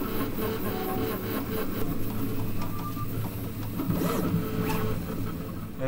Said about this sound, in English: 3D printers running overnight 24/7 past week